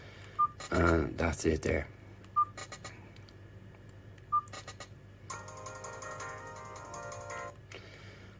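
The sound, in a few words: Snake game sounds on Nokia 5310 2020 phone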